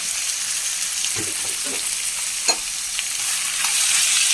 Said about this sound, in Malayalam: 3 അത്യാവശ്യം വലിപ്പമുള്ള സവോളയാണ്. അതൊന്ന് വഴണ്ട് വരട്ടെ നന്നായിട്ട്.